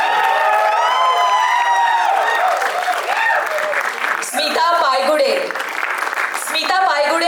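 Sustained applause and cheering greet film actors as they come up on stage at a Marathi film trailer launch event, dense and loud throughout, with a voice calling out over it.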